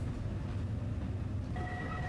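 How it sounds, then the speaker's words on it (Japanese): An Alishan Forest Railway train climbs the mountain toward Alishan station with a steady, low rumbling drone. A faint, high, steady tone enters near the end. "列車は鍵駅を出発し、標高2216メートルの阿里山駅を目指して登っていきます。"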